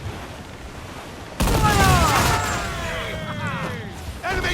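Ship cannon volley in Assassin's Creed IV Black Flag, a sudden heavy blast with rumbling, whistling projectiles and another boom near the end, shouted crew voices over the battle.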